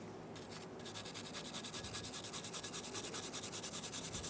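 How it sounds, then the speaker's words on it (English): A wire brush scrubs a Subaru WRX rear brake caliper bracket in quick, even back-and-forth strokes, a close, steady raspy scraping that runs rhythmically without talk. "Using a wire brush, we're going to clean the caliper bracket."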